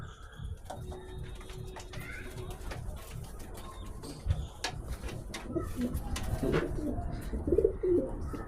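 Pet pigeons coo repeatedly in low, soft rolling calls, close by, with faint chirps and light rustling in the background.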